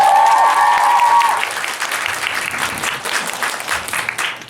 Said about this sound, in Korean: 박수 좀만 더 크게 치시면 안 될까요?